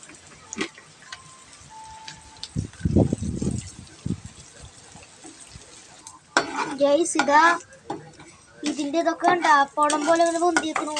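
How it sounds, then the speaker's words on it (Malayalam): Chilli and curry leaves frying in a pan for a bitter gourd roast: stirring, scraping and soft sizzling with a few utensil clinks, followed by a stretch of nearby talking. "ഇത് മിളകും വേപ്പലയും വറുത്തൂട്ടാ"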